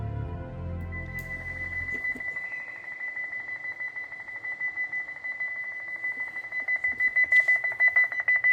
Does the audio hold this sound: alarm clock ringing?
yes